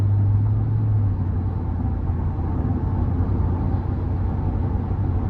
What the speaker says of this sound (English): And just a nice strong growl from the engine bay.